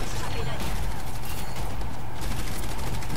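Explosive gunfire in Overwatch rattles in rapid, dense bursts with blasts and mechanical clatter, loud and continuous, while a player talks over it.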